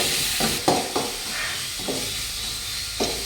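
Masala sautéing in a pan for a shark fish curry made with coconut: a steady hiss and sizzle with several scraping stir strokes at intervals, close and moderately loud, with no talking.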